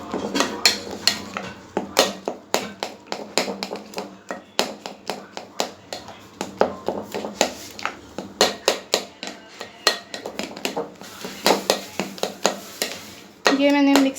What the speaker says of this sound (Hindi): ये मैं इसमें ऐड कर दूंगी और अच्छे तरीके से मैं इसको मिक्स कर लूँगी